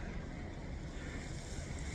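A Yosemite waterfall heard from a distance as a steady, quiet rushing hiss with no clear breaks, alone and without voices.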